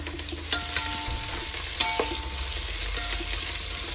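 Four large onions fry in oil for biryani with a continuous sizzle, while a spoon stirs and clinks against the vessel now and then over a low steady hum.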